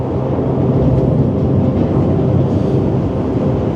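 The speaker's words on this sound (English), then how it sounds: "But the sound you're hearing now is not the wind, it's a train passing over this railway bridge" A train rolls over a railway bridge in Toronto with a loud, steady, heavy rumble and rattling that fills the whole stretch, close by and unbroken, with no talking.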